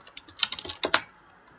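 Quick bursts of keystrokes on a computer keyboard while an email address is entered, a run of light clicks followed by a couple of firmer taps, close and clear with no voices.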